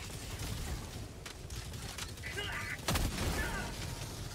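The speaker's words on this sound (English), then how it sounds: "Someone is shooting at me." Gunfire from the Helldivers 2 video game crackles through a dense battle soundscape, with scattered shots and one sharper, louder burst near the end over a constant roar of combat.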